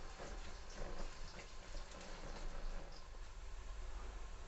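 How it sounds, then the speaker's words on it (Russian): Sliced onions frying in hot oil for Kyrgyz plov give a dense, steady sizzling hiss, close and even from start to finish. "Вот, лук жарим."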